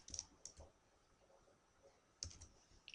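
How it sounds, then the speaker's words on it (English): Keys on a computer keyboard click in a few sparse, quiet taps with a short pause between them, close by in an otherwise near-silent room. "Okay, so I'll hit enter on the keyboard, and that's done."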